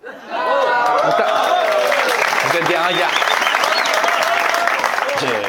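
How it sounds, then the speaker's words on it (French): Comedy club audience at a stand-up show breaks into loud, sustained applause mixed with chuckles and crowd noise, while the comedian keeps talking over it. "Vous applaudissez ça?"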